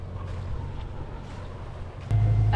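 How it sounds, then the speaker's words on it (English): A sailboat's engine chugs steadily under wind noise, then grows suddenly louder and lower-pitched near the end as the motor gets closer. "As you probably can hear, the engine is running."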